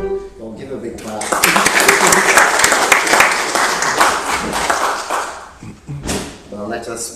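A church congregation claps after singing happy birthday during a Sunday service, a loud burst of applause lasting several seconds that fades out, with voices heard before and after it.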